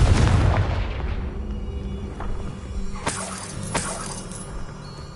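A Confringo explosion spell in a Harry Potter video game bursts with a loud, deep boom that fades into a rumbling tail, followed by a few sharp crackling snaps, with no voices.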